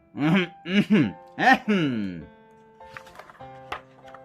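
A voice imitates a greedy old man in a Korean folktale clearing his throat about four times, each gruff, voiced 'ahem' loud and close. Soft background music follows.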